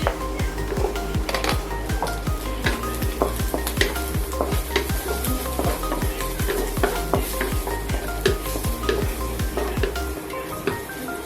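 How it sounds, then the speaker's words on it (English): Pork sausage fries at a breakfast stall in Kuching, a steady sizzle under a fast run of sharp metallic clicks and scrapes from stirring in the pan, close and continuous. "Put in the pork sausage."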